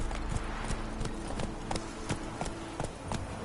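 Horse hooves clip-clopping steadily in The Witcher 3, a rhythmic run of hoof beats at moderate distance over soft ambient noise, without pause for the whole stretch.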